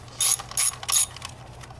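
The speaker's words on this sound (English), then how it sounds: "we can start putting these bolts back in" Ratchet tightening valve cover bolts on a 2005 Ford Focus: three quick bursts of bright clicking, evenly spaced, close up, followed by a softer fourth pass, with no talk.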